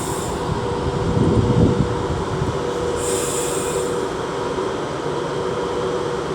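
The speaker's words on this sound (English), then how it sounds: "39154 is now getting ready to depart with the 1747 Avanti West Coast service to Glasgow Central" Avanti West Coast service to Glasgow Central at Stafford station on the West Coast Main Line, a steady rumble of rail traffic and train noise, swelling briefly early on with a faint high squeal, no talk.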